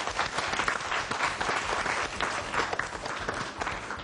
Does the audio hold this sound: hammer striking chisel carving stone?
no